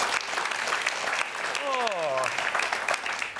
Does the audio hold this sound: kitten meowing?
no